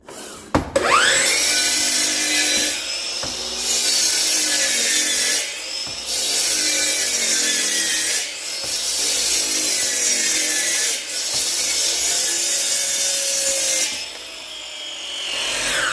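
Table saw ripping wood into 1-inch strips for a custom backsplash guard: loud, close, sustained cutting noise in several long passes separated by brief pauses, with no talking.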